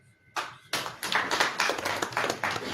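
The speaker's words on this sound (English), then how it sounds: "A clap of applause." A small group at a press briefing in a conference centre claps: a few sharp hand claps build into brief, close, fairly quiet applause with distinct individual slaps.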